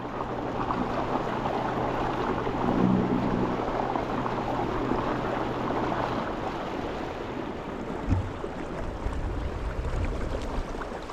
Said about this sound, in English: That sound is my wake crashing in.